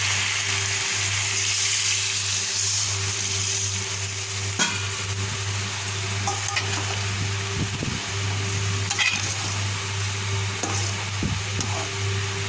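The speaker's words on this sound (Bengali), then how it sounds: "আর এই যে চিকেন কষা হয়ে গেছে আমি এখন শুদ্ধ হওয়ার জন্য পানি দিয়ে দেবো" Chicken curry sizzles and fries steadily in a pan after water is added, a soft continuous crackle with occasional stirring scrapes and a low fan hum underneath, no talking.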